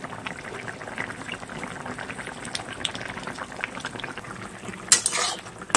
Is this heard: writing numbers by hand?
no